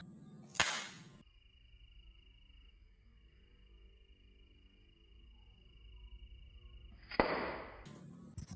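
Two sharp pops from a Sundanese bamboo toy gun called ceceletokan, one early and one near the end, each a crisp crack standing out against a quiet background with a steady faint whine between.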